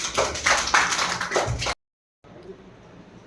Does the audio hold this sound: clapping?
yes